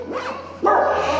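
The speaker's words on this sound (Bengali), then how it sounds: "চাও কুত্তাটা ডিউটি করতেছে আর কি," A dog at a house on a food-delivery stop in Portugal barks twice, loud and close, the second bark sharper and longer, with no talking over it.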